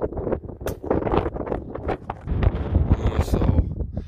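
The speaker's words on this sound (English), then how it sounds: "It is definitely breezy." Gusty breeze buffets an outdoor microphone in steady low rumbling bursts across the whole stretch, with some faint voices mixed in underneath.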